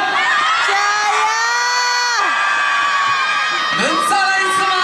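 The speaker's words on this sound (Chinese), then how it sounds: "如果你支持张伟的话，请欢呼和鼓掌" A live audience at a stage event roars in a loud, sustained collective cheer with whoops, holding for a couple of seconds, dipping, then rising again.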